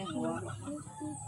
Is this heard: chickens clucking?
yes